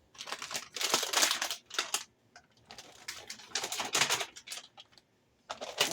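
A 12-ounce plastic bag of cut green beans crinkled and handled up close, bursts of crackly rustling separated by brief pauses, with no talking.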